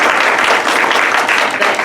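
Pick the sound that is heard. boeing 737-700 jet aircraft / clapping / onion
clapping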